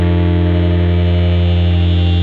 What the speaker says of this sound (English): Then I'm going to send my Harp's bass pickup through the Autobit Junior.